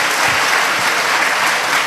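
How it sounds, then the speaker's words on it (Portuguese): A church congregation claps loudly and steadily after a Gospel reading, a dense, continuous applause close by with no voices over it. "Vamos aplaudir, mas assim com força,"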